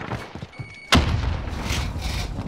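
A frag grenade detonates in a Modern Warfare shooter match, a single sudden heavy boom that cuts in sharply and rolls into a sustained rumbling tail.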